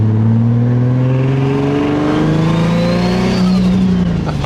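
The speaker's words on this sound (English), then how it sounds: "Okay, that turbo sounded nice." A car engine with a newly upgraded turbo revs hard and loud, its growl climbing in pitch with a thin turbo whistle rising above it.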